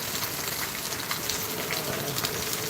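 Heavy monsoon rain pours down steadily in Mumbai, a dense, loud, continuous hiss of drops drumming on surfaces with no break.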